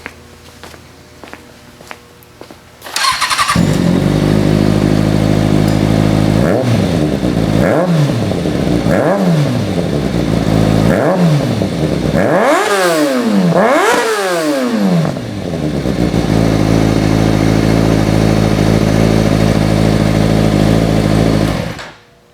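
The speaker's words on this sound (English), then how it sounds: "It's an exhaust, so let's give her a little fire up here." A motorcycle engine fires up after a freshly welded exhaust, idling loudly and close with a series of sharp throttle blips rising and falling, then settling back to a steady idle before cutting off.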